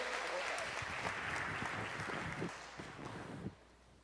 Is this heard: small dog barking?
no